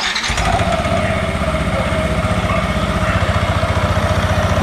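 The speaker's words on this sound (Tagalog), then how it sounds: "So, sa start ko yung makina." A CVT motorcycle engine cranks and catches, then settles into a loud, steady, rapid putter close by.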